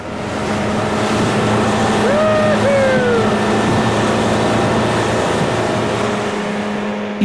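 A loud, steady motor roar from an inflatable dinghy racing over water, with a rising whine and rushing spray throughout.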